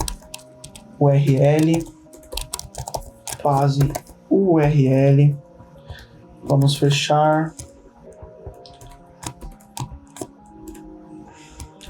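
Clicks from a new computer keyboard tick away in scattered bursts, fairly close and light, running under and between a person's talking.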